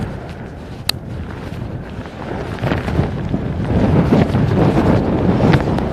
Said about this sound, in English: But that is a nasty, nasty wind if I had to turn around.